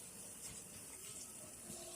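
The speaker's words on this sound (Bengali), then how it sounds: "এবার আমি দিয়ে দিচ্ছি 400 গ্রামের মতন জল।" Water pours steadily into a hot frying pan of oiled Bengali fish curry, making a faint, continuous gushing, sizzling wash with no talk.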